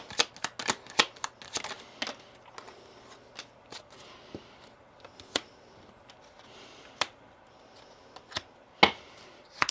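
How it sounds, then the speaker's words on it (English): Kipper cards being laid out in rows for a reading, with a rapid flurry of flicks and snaps at first, then sparser single card slaps and slides close by. "2 kipper cards now for that top row"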